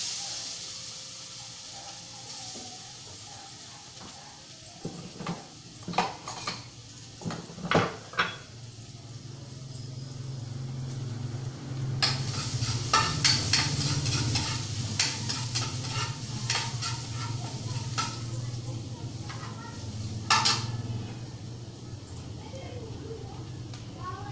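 Sardines sautéing in oil in a pan, a steady sizzle with scattered stirring scrapes and clanks, some sharp utensil knocks early, loud and close throughout.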